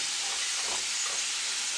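A steady, loud sizzle of potatoes frying in hot oil in a tilted pan, continuous hiss with no talking.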